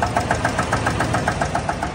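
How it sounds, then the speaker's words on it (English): A GM L87 6.2-litre V8 runs with a rhythmic engine knock, regular sharp taps repeating about eight times a second over a loud, steady idle. "I want y'all to hear this engine in action with this noise."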